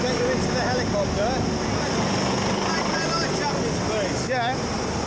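Rescue helicopter over the North Sea, a loud, steady rotor and engine roar filling the whole clip, with voices faintly underneath.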